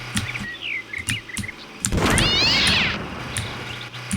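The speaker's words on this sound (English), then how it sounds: "Yeah, I just hit a cat with a rocket." Cat meows and yowls from the 1999 animal-killing driving game Carnivorous as a cat is struck by a rocket: a few short meows, then a loud, drawn-out, wavering yowl, with game noise underneath.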